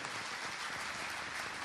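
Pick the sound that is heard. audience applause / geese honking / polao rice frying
audience applause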